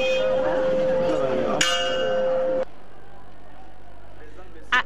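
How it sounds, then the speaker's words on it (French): A school bell rings steadily at 7:45 in the morning in Mali, a sustained ringing tone with a sharp onset that cuts off after about two and a half seconds, followed by quiet background and a brief sound near the end. "À exactement 7h45, la cloche sonne."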